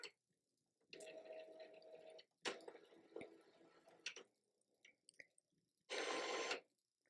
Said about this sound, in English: now it's going through its print head cleaning